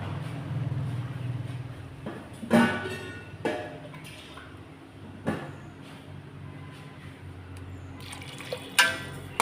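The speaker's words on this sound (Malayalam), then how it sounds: "വെള്ളം ഒഴിച്ചു കൊടുത്ത് കുറച്ചുകൂടെ വെള്ളം ഒഴിച്ചു കൊടുക്കുക." Water splashes and trickles steadily into a pan of vegetables for kurma, with a few louder clatters and splashes of the vessel along the way, no talking.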